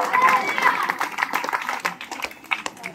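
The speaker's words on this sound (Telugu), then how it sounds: "గట్టిగా చప్పట్లు కొట్టండి, దీవెనలు పొంది ఇంటికి వెళ్ళిపోదాం." Loud clapping from a church congregation after the final blessing of Holy Mass, with scattered claps running through the whole stretch under a voice speaking over them.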